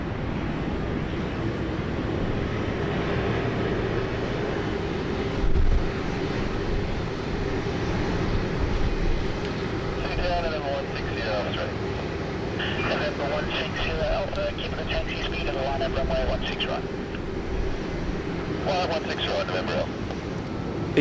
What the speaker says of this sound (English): we've got taxiing up behind Air China flight 614 heading back to Shanghai, A330, 300 series